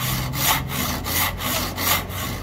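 An old hand saw of the Gold Coin brand, bought for 150 baht, cuts through wood in quick, steady back-and-forth strokes, about seven rasping passes close up with no talk.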